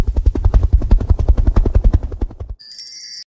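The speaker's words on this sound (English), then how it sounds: "Helicopter." Helicopter rotor and engine heard up close as a loud, rapid, steady chopping beat of heavy thumps, cutting off abruptly before a short high chime.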